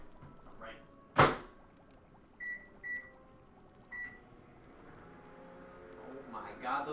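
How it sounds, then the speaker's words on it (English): A microwave oven in a kitchen, first a sharp door thunk, then a few short electronic beeps and a faint running hum, with rustling near the end. "Let's go throw these sunstones in the microwave."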